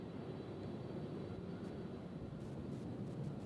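A jet accelerates on its takeoff roll at Louisville's UPS World Port, a faint, distant, steady rumble with a soft hiss over it.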